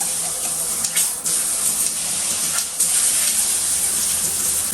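An adjustable-pattern shower head sprays a steady, loud rush of water close by, with a few brief shifts in the spray as the pattern changes, alone without voices.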